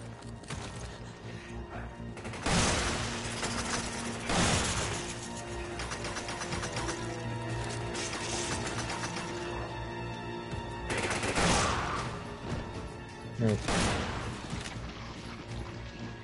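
Rifle gunfire in the Resident Evil video game cracks out in repeated sharp shots over a dense, sustained game soundscape with mechanical clatter, some reports louder and nearer than others.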